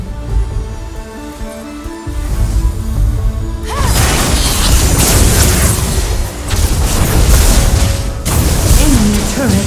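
An enemy turret is destroyed in League of Legends: Wild Rift during an Alistar match. A heavy booming crash erupts after a quieter stretch of tonal game sounds, followed by sustained loud rumbling and effects.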